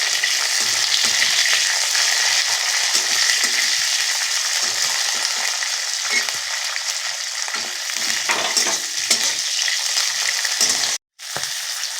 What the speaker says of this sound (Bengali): রসুনটা ভাজা হয়ে গেছে, কাঁচা লঙ্কা দিয়ে দেবো,